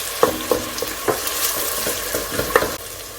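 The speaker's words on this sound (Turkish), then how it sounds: "Soğan biraz kavruldu." Onions sautéing in a pan with a steady near sizzle, punctuated by rhythmic spoon taps and scrapes against the pan every half second or so, fairly loud, no talking.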